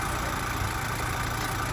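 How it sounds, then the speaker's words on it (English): A 2023 Chevy Colorado L3B engine idling slightly bogged down and low, a steady near rumble with an even, continuous drone and no talking. "Idle sounds slightly bogged down and low."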